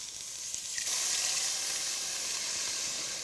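Stock poured into a hot pan of cooked flour for beef burgundy, a loud steady sizzle and hiss of frying liquid with a brief splash at the start, continuing alone without talk.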